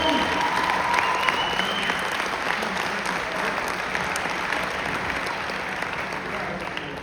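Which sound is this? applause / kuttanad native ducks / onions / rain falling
applause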